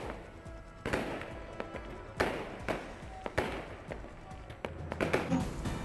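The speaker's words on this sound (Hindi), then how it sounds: "राधा रानी के प्राकट्योत्सव पर जमकर की गई आतिशबाजी।" Fireworks burst at the Radha Rani birth anniversary festival at Barsana: a string of sharp, irregular cracks and bangs rises above a murmuring crowd and background bustle.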